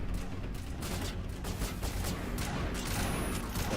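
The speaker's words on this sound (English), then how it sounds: "Hey Kit, there's people shooting at you." A dense, steady barrage of gunfire from Mass Effect 1 runs throughout, mixed with clanking mechanical game noise at a moderate level and no voices.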